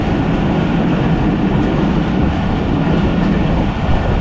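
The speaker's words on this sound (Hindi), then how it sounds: "ट्रेन आहिस्ता आहिस्ता एक्सेलरेट कर रही है और इसकी स्पीड बढ़ रही" A GEU40 diesel locomotive hauling a Pakistani express train picks up speed, giving a steady, loud rumbling roar with dense rolling noise and no pauses throughout.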